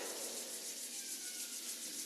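Palms rubbing together during a guided self-massage, a soft continuous swishing friction heard alone and close, steady for about two seconds with no voices.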